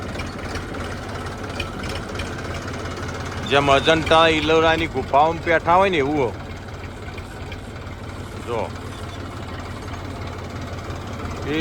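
A tractor engine idles with a low, steady rumble throughout, while a person speaks loudly over it for a few seconds in the middle.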